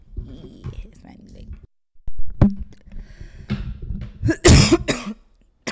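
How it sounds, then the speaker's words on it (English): Someone coughs into a podcast microphone, a burst of loud, close, harsh coughs near the end after some quieter voiced sounds and talk-like murmuring. "Why'd you cough into the mic?"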